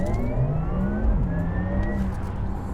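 A 2020 Porsche Taycan Turbo electric sports car accelerates with a rising, whining electric motor tone over steady road rumble, smooth and continuous, close by.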